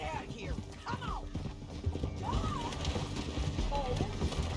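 Several horses gallop in Red Dead Redemption 2, with rapid clip-clop hoofbeats, sharp neighs and whinnies, and voices talking over the busy in-game riding scene.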